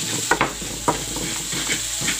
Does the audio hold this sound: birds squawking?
no